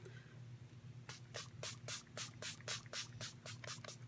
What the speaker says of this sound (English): I need to spray my face and set my face.